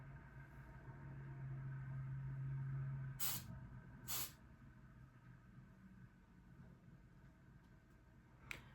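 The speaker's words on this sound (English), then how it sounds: "you're just gonna spray it down. Spray it down a little bit with some hairspray." Two short, sharp hiss bursts of hairspray from an aerosol can being sprayed onto hair, about a second apart, over a faint background hum.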